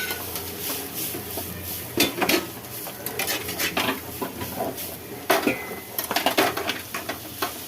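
Cashews and peanuts sautéing in a pan for coconut rice, with a faint sizzle under repeated loud scrapes and clatters of a spoon stirring against the pan, no voices.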